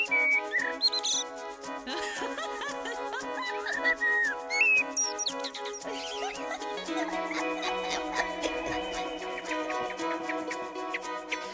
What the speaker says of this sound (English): a bird song like that, pure joy